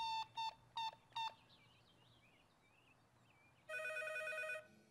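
A cartoon telephone rings in four short, evenly spaced electronic trills, followed by a brief chirping tone and then a longer, steady ringing burst, clear and with no speech.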